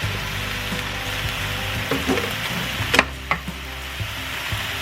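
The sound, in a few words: Italian sausage frying with onions and mushrooms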